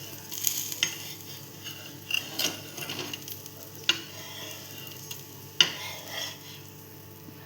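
Tangy-sweet buttermilk pancake (ghee-topped) flipped and frying in a pan, a faint steady sizzle broken by several sharp spatula scrapes and clinks, close with no voices.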